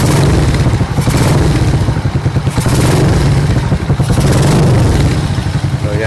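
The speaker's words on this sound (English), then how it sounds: "Now, this is the sound of the pipe sa TMX125." A Honda TMX 125 motorcycle on a custom street tracker build idles through its exhaust pipe, a steady loud close-up putter with rapid regular pulses and occasional slight blips in engine speed, no talking.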